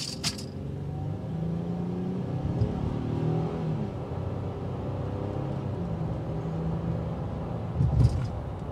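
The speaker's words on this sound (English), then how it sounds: "the first thing that I always like to do is give it a little bit of gas" A 2022 Honda Ridgeline HPD pickup's engine revs under acceleration on a road, with a low, moderately faint rumble that rises and falls steadily and a brief louder surge near the end.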